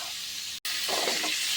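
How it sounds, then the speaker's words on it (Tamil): Onion and capsicum sizzle in a hot pan, a steady close hiss that continues throughout with a brief drop in the middle. "இப்போ இது 1 நிமிஷம் வதங்கட்டும். பாருங்கள், வெங்காயம், குடமிளகா,"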